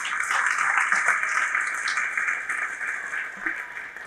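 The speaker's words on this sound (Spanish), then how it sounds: "¿Cuánto le damos un fuerte aplauso al Señor?" Church congregation giving a loud round of applause to the Lord during a Spanish-language sermon, a fairly faint, even wash of many hands clapping that slowly thins toward the end.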